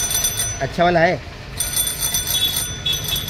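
A bicycle bell on a children's bicycle under repair rings in several short metallic bursts, close by, while a person speaks briefly between the rings.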